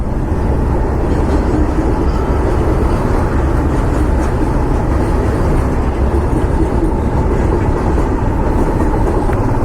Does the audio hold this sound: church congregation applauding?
no